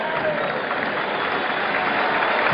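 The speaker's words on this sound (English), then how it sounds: "It's an ovation from this partisan crowd" A partisan stadium crowd gives a sustained ovation at a 1973 Steelers–Dolphins American football game, a steady dense wash of applause and cheering throughout.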